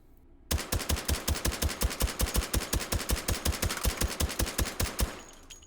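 A suppressed Brügger & Thomet APC carbine in the VR game H3VR fires a long, even burst of about forty sharp, close thuds at a fast steady pace, then stops abruptly into quiet.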